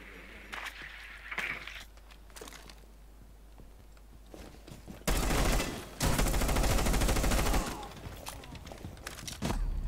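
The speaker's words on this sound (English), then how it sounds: "I shot way too many bullets" Video game gunfire in a tactical shooter match: scattered single shots early, then a long, loud burst of sustained rapid fire that continues almost to the end, close and dominant.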